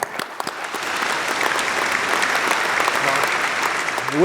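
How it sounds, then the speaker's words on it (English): An audience at a retail awards ceremony applauds the international retailers of the year, a steady roar of many hands clapping that builds and holds throughout, with a voice just beginning at the very end. "Let's give them a big round of applause"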